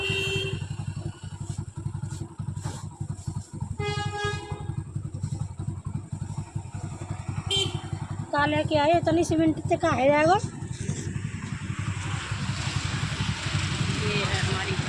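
A motorcycle engine hums steadily and passes by, with people talking throughout and a brief horn-like tone partway through.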